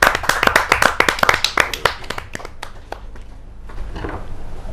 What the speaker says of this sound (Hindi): जोरदार ताली के साथ हम उनका स्वागत करें।